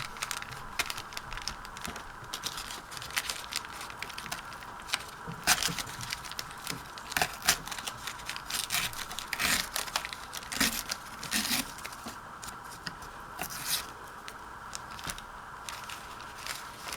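A paper book page is cut down for a handmade journal booklet, with quiet, close crisp snips and crinkling rustles scattered irregularly throughout.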